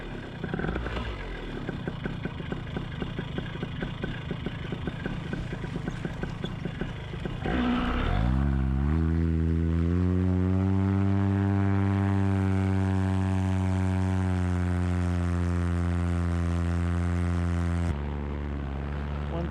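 Small paramotor engine running steadily in flight, a loud buzzing drone with a rapid pulsing texture, then a sharp shift to a smooth, slowly rising harmonic whine that holds for several seconds before thinning out near the end.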